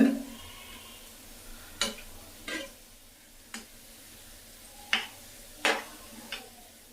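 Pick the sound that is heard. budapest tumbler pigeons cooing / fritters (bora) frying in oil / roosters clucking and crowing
fritters (bora) frying in oil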